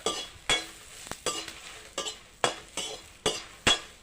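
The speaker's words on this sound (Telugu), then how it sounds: "మిరపకాయలు ఇట్లా వేయించుకోవాలి" Chillies frying in oil in a pan for a village-style mango chutney, with a quiet sizzle broken by about eight evenly spaced scraping and clinking stirs of a spoon against the pan, nearby and without speech.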